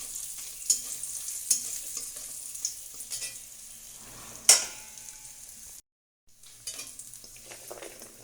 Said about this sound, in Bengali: এবার দিয়ে দেবো বড়ি, দিয়ে অল্প একটু ভেজে নেব।